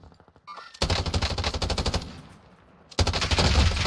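Rapid automatic gunfire in a video game, loud dense bursts of repeated shots with a brief lull before another heavy volley.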